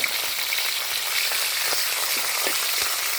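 Small mackerel frying in a little oil, a continuous bright sizzle and crackle at close range, with occasional louder spits and pops and no talking.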